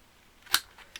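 A We Are Memory Keepers corner rounder set to a 10 millimeter radius punches paper corners: one sharp, close snap followed by a fainter second click.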